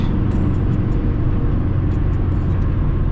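A Ford Fiesta MK7 with a 1.5 TDCi diesel, heard from inside while cruising at 140 km/h. A steady low engine drone mixes with road rumble and wind noise, with a few faint high ticks.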